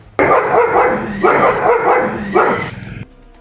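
A German shepherd barks loudly and close by in three heavy bursts, each a rapid run of deep barks, ending abruptly.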